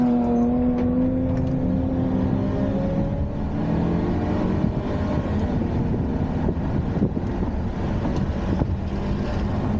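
A Lotus Evora sports car drives on a race track, its engine holding a steady, close drone with shifting pitch, mixed with strong wind rush and no talking.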